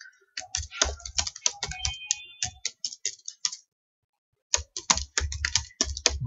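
Fast bursts of keystrokes on a computer keyboard as Python code is typed, close and crisp, with a short pause midway before the clicking resumes; no talk over it.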